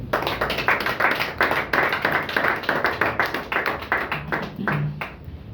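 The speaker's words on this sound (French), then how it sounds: "je tenais à ce qu'on dise félicitations à l'armée par des applaudissements, s'il vous plaît" Applause for the army at a political gathering in Gabon, a few close, distinct hands clapping in rhythmic bursts, fairly loud and without talk.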